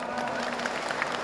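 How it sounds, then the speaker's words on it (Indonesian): An audience at a university gathering in Tegal claps in a short burst of applause, dense and even throughout, with a bit of crowd noise underneath. "tepuk tangan Tegal."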